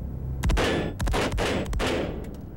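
Rifle shots from counter-sniper marksmen firing custom-built precision rifles at long range, several loud, sharp reports in fairly quick succession, each followed by a booming echo over a steady outdoor rumble.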